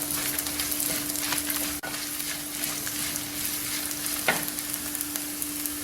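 Ingredients for a broccoli kurma roast in a pan with a continuous close hiss and crackle, one sharp clack of a utensil early on and a brief scrape later, with no voices.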